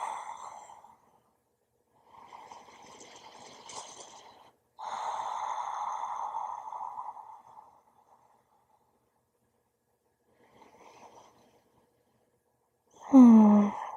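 Slow, deep breaths during a gentle prenatal yoga floor stretch: three long, soft inhale-exhale cycles with pauses between, close and calm, ending in a sharper audible breath.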